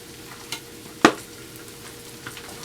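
Onions and bell peppers sauté in a double-up skillet while shrimp fajitas are being made, a low steady sizzle with a sharp clatter of a utensil midway and a few faint knocks, close and fairly quiet.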